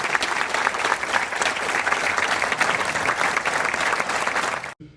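A cinema audience in Cabourg applauds veterans who witnessed the liberation, loud continuous clapping from a full hall that stops abruptly at the end.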